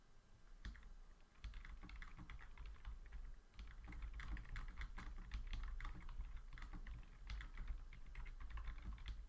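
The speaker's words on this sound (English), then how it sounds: "I'll type it out one moment." Rapid typing on a computer keyboard fills the whole stretch, dense irregular key clacks close to the microphone over a low steady hum, with no voices.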